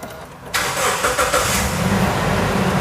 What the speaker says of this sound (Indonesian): langsung saja kita injak rem dan tekan tombol start stop engine